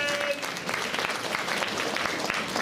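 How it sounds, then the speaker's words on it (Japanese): A theater audience applauds steadily through the clip, with dense, continuous clapping at a moderate distance during an interactive sea turtle show at Tokyo DisneySea. "みんな彼に拍手を送ってくれ。"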